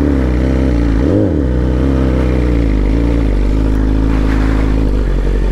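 A racing motorcycle engine runs loud and close, droning with layered harmonics and one quick rev dip and swell, then holding a steady buzzing tone.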